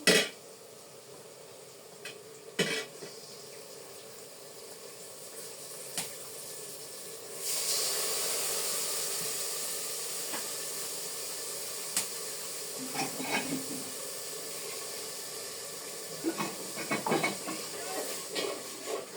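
Meat is sautéed with chili and spices, giving a steady hiss of sizzling that swells partway through, with occasional clinks of a utensil against the pot.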